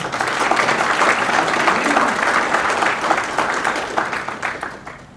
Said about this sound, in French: Je vous demande aussi de les applaudir,